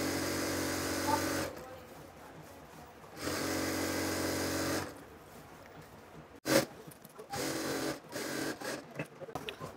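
Electric sewing machine stitching a six-panel petticoat: loud, steady mechanical whirring runs in long bursts broken by short pauses and a sharp clunk, close up and without speech.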